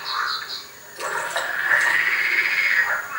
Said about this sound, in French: Pour les grenouilles vertes, les étangs sont à la fois des lieux pour les parades printanières et pour la ponte de leurs œufs.